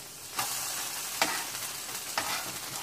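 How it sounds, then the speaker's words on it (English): Burgers sizzle loudly on a hot griddle in a steady hiss, broken by three sharp scraping flips of a spatula spaced evenly apart, with no talking. "I want to flip our first two burgers I put in."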